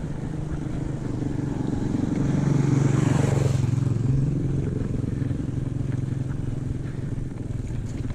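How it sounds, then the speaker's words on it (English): A motorbike passes near the Turon River crossing in rural bush, a steady engine drone that swells as it goes by and then eases off, heard beside a mountain bike ride with no talking. "You can hear a motorbike."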